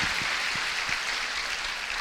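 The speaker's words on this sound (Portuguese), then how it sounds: "Aplauda ao Senhor." A church congregation applauding, a continuous wash of many hands clapping together at moderate volume, even and unbroken throughout with no voices standing out.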